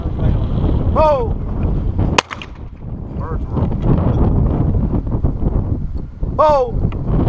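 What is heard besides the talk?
strong wind blowing at a golf course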